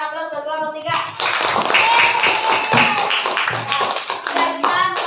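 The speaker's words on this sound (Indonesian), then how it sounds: "Tapi yuk berikan aplaus ke kelompok 3." A primary-school class claps for group 3 after their drama performance, a dense burst of many hands rising after a teacher's voice and continuing steadily, with children's voices mixed in.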